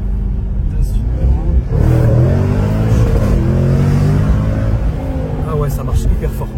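Supercharged 4x4 engine pulling hard under acceleration, a loud continuous roar and rising whine heard from inside the vehicle, with excited voices talking over it throughout.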